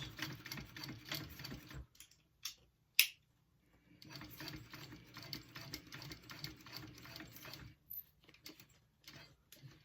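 A sewing machine top-stitches a leather tote in steady runs of rapid, even needle strokes, with short pauses and a few sharp clicks between passes.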